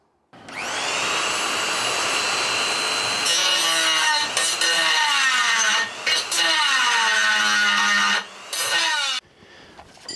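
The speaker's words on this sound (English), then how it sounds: "now we're going to cut this crack out using a die grinder" A die grinder cuts a crack out of an aluminium VW sump, a close, high-pitched whine with a grinding rasp as the cutter bites, pitch sagging under load in several dips before it spins down near the end.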